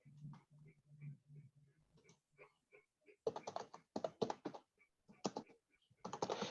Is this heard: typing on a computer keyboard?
yes